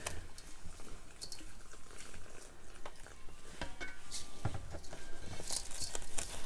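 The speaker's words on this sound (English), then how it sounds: "So you're going to add water." Water trickles and patters onto seed-starting soil in a container, a faint, close, uneven splashing with small drips and no talking.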